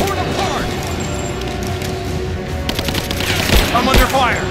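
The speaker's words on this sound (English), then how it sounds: "I'm under fire!" Rapid gunfire crackles in Rise of the Tomb Raider, loud repeated bursts of automatic shots and single cracks in a combat scene, layered over game effects and shouted voices.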